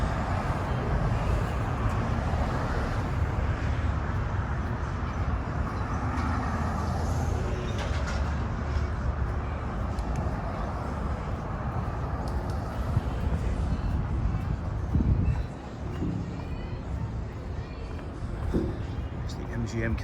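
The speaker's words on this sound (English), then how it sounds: "And there's a lot more traffic now than there was" Morning traffic rolling along Las Vegas Boulevard near the MGM casino just before sunrise, a steady low rumble of cars, buses and trucks passing close by throughout, with a brief lull near the end.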